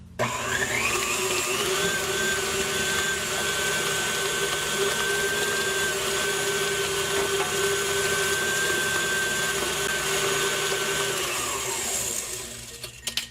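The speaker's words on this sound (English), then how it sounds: "I'm only going to add the eggs one at a time and beat after each one" An electric mixer beats eggs into pound cake batter with a steady motorized whir and a high whine, running continuously at close range before winding down at the end.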